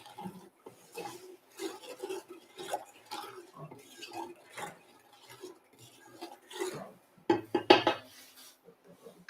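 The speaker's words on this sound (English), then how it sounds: "you want to just stir that until the sugar dissolves" Spoon stirring sugar in a pan until it dissolves, a series of light scraping clinks and metallic taps at an uneven pace, close by, with faint talk in the background.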